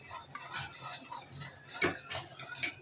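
A spoon stirs semolina and custard powder in a pot, making a steady series of close scraping clinks and light scrapes against the metal without any voices.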